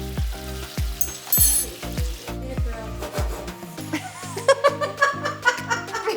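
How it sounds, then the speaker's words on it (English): Chicken piccata with broth sizzles in a pan, the frying hiss joined by rhythmic scrapes and knocks of stirring, with brief laughter and voices partway through. "Now it needs to be stirred a little more."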